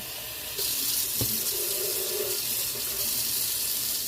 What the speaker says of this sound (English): So I'm just going to add a little bit more water to that.